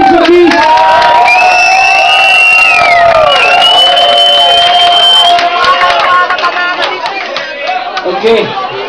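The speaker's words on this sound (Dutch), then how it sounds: "een groot applaus alstublieft voor de DJ's" A crowd at a DJ contest at a disco night cheers, whoops and shouts loudly, with children's shouts and babble mixed in, the roar staying strong before slowly easing off.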